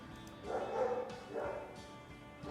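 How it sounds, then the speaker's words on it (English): Pet dog named Bruce barking and whimpering indoors, two soft, muffled bursts of yips and whines a short distance away, fairly quiet against a steady background hum, with no talk. "That's my dog Bruce."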